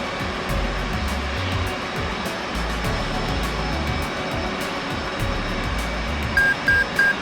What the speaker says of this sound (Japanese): FCS ビットの完了音が鳴りました。